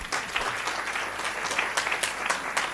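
An audience at a teachers' and practitioners' research colloquium claps in a steady, fairly close round of applause throughout, with no talking.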